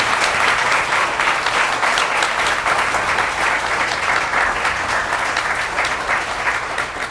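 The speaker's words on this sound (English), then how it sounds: "can we get one more round of applause before we get into the question?" An audience at a live talk event breaks into sustained, dense applause, loud and close, holding steady for several seconds before easing slightly at the end.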